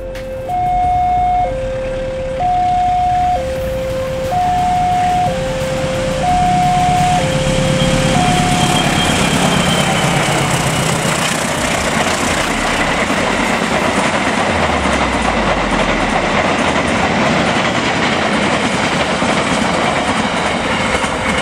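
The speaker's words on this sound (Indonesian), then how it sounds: "Saat itu, KA Gajah Wong dari Pasar Senen tujuan Lempuyangan melaju kencang." KA Gajah Wong passenger train hauled by a CC-04 locomotive passing fast, a two-tone horn sounding in repeated blasts, then a loud sustained roar and rumble of the wagons rushing by close.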